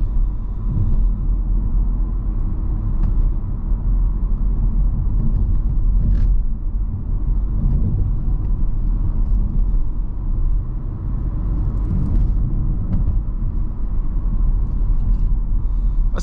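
Inside a 2021 Audi A5 Sportback 45 Premium Plus on the road, a steady low engine and tyre rumble fills the cabin, loud and continuous, with no talk.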